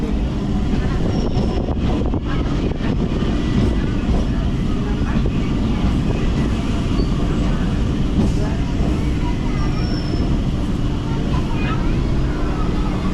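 A steady, low rumbling drone of a train idling at Majher Gram station, waiting to cross an opposing train, constant throughout with a broad wash of background noise.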